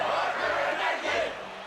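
A brawling crowd in a podracing arena's galleries shouts and chants in a dense, roaring burst of overlapping voices, loud and steady for a moment and then easing off slightly.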